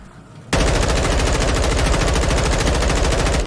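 Fully automatic gunfire in a PC video game, one sustained rapid burst of evenly spaced shots starting abruptly after a brief quiet moment and running loud and close until near the end.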